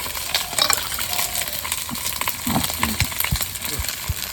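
Paneer pieces fry in hot oil with a dense, crackling sizzle close by, broken by a few spatula taps and clinks against the pan.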